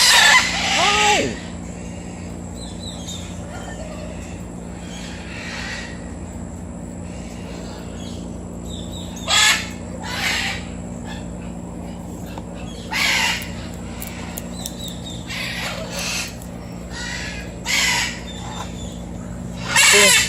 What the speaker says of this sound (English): Two of a pair, really nice birds.